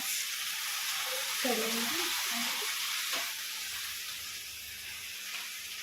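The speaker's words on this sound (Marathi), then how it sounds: "आता त्याला पलटी करून घेऊया" Leafy greens (chawli and tandulja bhaji) in a garlic tempering frying in a pan as they are turned, a loud constant hissing sizzle with a brief voice and a clunk partway through.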